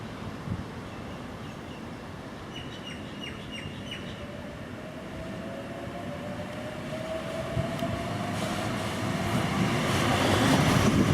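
An electric Oscar set passenger train hums at the platform of Wollongong Station, New South Wales, amid steady station noise, a rising whine building as it moves off, with faint chirps and brief metallic beeps.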